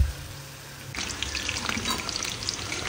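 Rolls fry in hot oil in a home kitchen, a soft hiss that swells into a lively, bubbling sizzle after a brief quiet start, close and alone.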